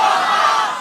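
A large crowd of young men at an outdoor religious gathering in Khulna roars a loud, sustained collective chant of "Allahu Akbar" in answer to the takbir call, dense and unbroken.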